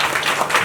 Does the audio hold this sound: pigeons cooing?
no